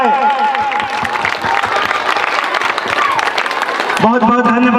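A crowd of women and families claps to welcome the committee president at a Chhath Puja gathering at a Shiv temple in Madhu Vihar. The clapping is steady and sustained, mixed with a loudspeaker voice and tonal sound throughout.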